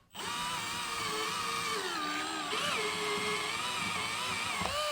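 A power drill whines steadily at high speed, loud and close, its pitch dipping slightly as it bites into a guitar body, running continuously without pause.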